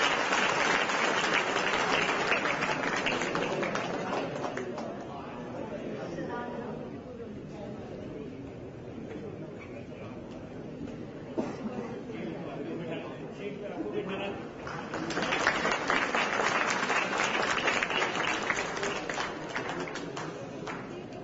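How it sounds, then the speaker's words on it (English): Loud applause from a large audience at an annual prize distribution function fills the start, fades under murmuring voices mid-way, then swells again into sustained clapping near the end. "Please give round of applause for all the students."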